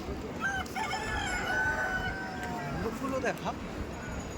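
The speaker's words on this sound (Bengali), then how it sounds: "আর অনেক মোরগ বাঁধা এখানে দেখা।" Several roosters crow at a rooster market in Dayapur village, Sundarbans, over a busy background of crowd chatter and murmuring, calls overlapping and fairly close.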